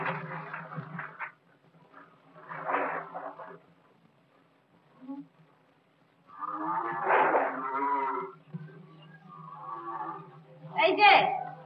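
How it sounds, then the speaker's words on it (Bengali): A cow moos several times with low, drawn-out calls separated by pauses, while people talk nearby in between and over the lowing. "গরুকে ডাক কি কানে যাচ্ছে না?"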